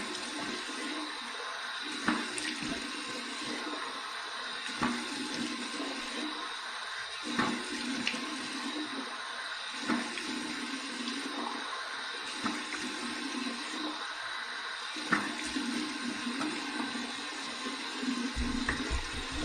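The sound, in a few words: warm water running from tap for shave rinse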